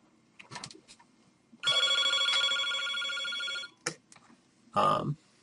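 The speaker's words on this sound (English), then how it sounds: "excuse me, that's my phone." A phone rings during a thermodynamics lecture, one loud bright electronic ring held for about two seconds, framed by brief speech before and after.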